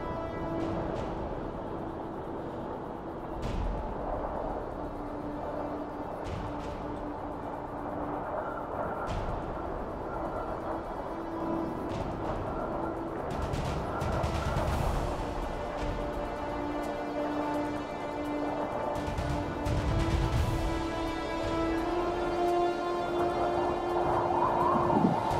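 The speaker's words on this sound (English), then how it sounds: "As you can probably hear, it's very windy again" Strong wind buffets the microphone at the Callanish Standing Stones in Scotland, a continuous low roar with gusty thumps that builds toward the end, with no talking.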